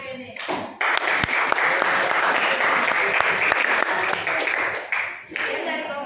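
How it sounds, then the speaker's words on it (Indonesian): An audience applauds a final presentation group in a school coaching and academic supervision session, the clapping loud, dense and sustained across most of the stretch, dipping briefly near the start and end with faint voices mixed in. "Kita kasih tepuk tangan dulu sekali lagi untuk kelompok terakhir ini."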